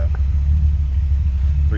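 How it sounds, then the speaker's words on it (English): A low, steady V8 engine rumble from a 1968 Chrysler 300 convertible with a 340, idling close by, deep and even throughout. "Nice little rumble coming out of that"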